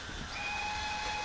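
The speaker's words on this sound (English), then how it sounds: "I remember to whistle for those crossing points" Steam locomotive whistle sounding for a level crossing in a railway simulator on the Manx line, a sustained steady tone held over a low hiss and rumble, fairly faint.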